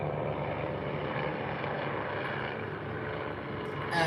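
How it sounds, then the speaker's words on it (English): A police helicopter flies overhead, its steady broadband rotor and engine rumble holding evenly throughout and swelling slightly at the very end, with no voices. "Police helicopter."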